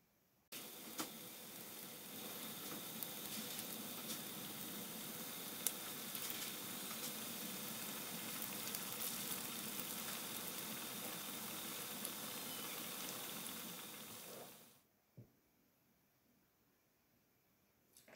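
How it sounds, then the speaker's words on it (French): Merguez samosas sizzle and crackle in preheated oil, a steady, close frying hiss with small pops that runs for about fifteen seconds, then stops abruptly into near silence with one faint clink. "Je les mets à frire dans de l'huile que j'ai déjà préchauffée."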